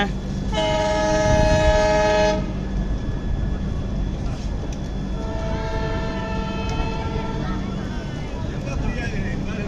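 An express train's horn blares loudly for about two seconds, then a second, softer horn tone sounds as the train rumbles steadily underneath, departing a crowded station.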